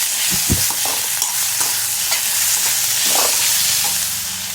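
Grated gooseberry (amla) fries and sizzles in a pan for chitranna, with a steady hiss broken by several scraping stirs and soft knocks of the spatula, close and fairly loud.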